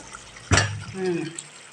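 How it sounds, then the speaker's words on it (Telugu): Water is poured from a bowl into a pot of curry, making one short splash near the start that fades into a faint trickle. The sound is close and fairly quiet. "నేను గిన్నెలో కొంచెం వాటర్ పోసుకొని పోసేద్దాం"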